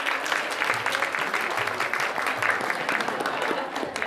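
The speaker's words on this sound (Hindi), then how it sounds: "सभी भक्तजन तालियों से स्वागत करेंगे इनका।" A devotional crowd at a Bhagwat Katha gathering claps loudly to welcome guests, dense continuous applause filling the whole stretch with a faint murmur of voices beneath.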